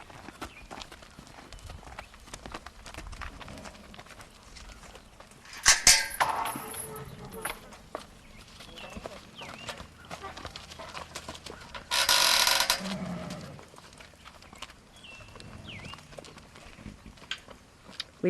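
Mares and young foals moving about a barn at a Foxtrotter horse farm, hooves clopping and shuffling at moderate distance, with roosters crowing and chickens clucking in the background and two loud close bursts of noise.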